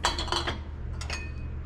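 A few light clinks of glass and dishes knocking together, close by, while checking a dishwasher load, in two quick bursts with a short ringing tone after the second.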